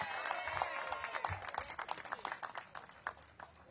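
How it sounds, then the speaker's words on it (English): Scattered audience clapping for Garrett at a city event with Mayor Muriel Bowser, distinct individual claps at moderate distance, fairly faint and sparse. "Let's give Garrett a big round of applause."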